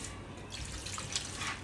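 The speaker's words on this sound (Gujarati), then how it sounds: "આ રીતે પાણી નાખી અને તમે નળ નીચે ધોઈ શકો." Tap water runs onto poha (flattened rice) being rinsed under the faucet in a home kitchen, a steady splashing stream with brighter spattering surges partway through, close and alone.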